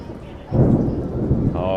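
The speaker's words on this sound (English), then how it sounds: "Oh, heard the lightning, folks?" Thunder rolls in as a deep, loud rumble over steady rain during a storm at Disney's Hollywood Studios, Walt Disney World, Florida, swelling midway and lingering to the end.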